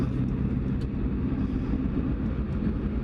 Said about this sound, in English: Let's go for a little ride in the Alfa.